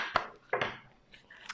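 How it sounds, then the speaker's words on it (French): Tarot cards shuffled by hand give two quick, close papery riffles, then a softer flick near the end, with no voices. "On mélange les cartes."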